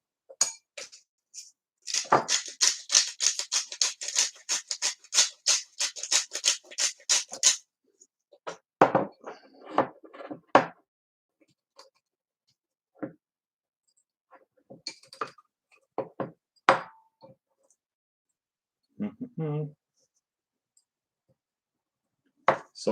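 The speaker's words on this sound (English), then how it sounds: "It's just salt. It should be fine, but it's in a grinder" A grinder cracks pink Himalayan salt crystals, a rapid rattling burst of gritty clicks followed by scattered sharper crunches and pauses, close and fairly quiet.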